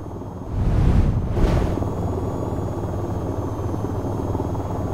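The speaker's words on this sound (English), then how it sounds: "we've just landed back at Akatan and taxiing back to our parking" AH-94 helicopter in VTOL VR landing and taxiing at Akatan: a steady loud rotor and turbine drone with a pair of whooshing surges near the start, then constant engine hum.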